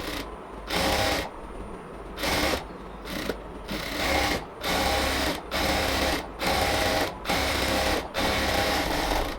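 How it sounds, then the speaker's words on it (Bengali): A sewing machine runs a double seam along a frock, its fast needle chatter coming in about nine steady bursts with brief pauses between, close and loud with no talking. "এবার পুরোটাতে হচ্ছে আমরা পিনগুলো খুলে নিয়ে আরেকটা ডাবল সেলাই দিয়ে দিব।"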